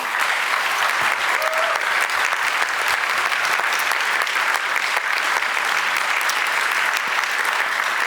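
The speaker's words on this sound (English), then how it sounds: "Please give a round of applause for our panel." Dense, steady audience applause for a panel at a conference on European geopolitics and the war in Ukraine, sustained and loud throughout without pause.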